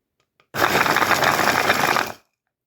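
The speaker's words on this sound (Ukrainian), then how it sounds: "Крихту розбиваю у блендері." A blender whirs loudly for about two seconds, grinding crumbly meringue pieces with a gritty rattle, then stops abruptly.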